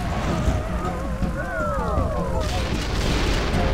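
Enemy thief robot blown apart in the Descent 3 video game, a burst of loud rumbling explosion noise with warbling, rising and falling electronic tones, sustained and dense across the whole moment.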